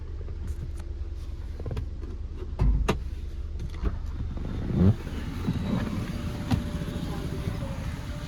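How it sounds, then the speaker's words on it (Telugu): A power window of a 2017 Hyundai Creta 1.4 diesel hums as it slides, among clicks and soft thumps inside a quiet cabin. "4 పవర్ విండోస్ వర్కింగ్లో ఉన్నాయి"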